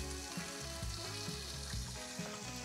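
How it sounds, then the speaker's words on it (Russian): Pork fat renders in a pan, giving a steady, dense frying sizzle with fine crackling throughout, an even close hiss with a low hum underneath and no talking. "Сало начало у нас выделять жир, много масла."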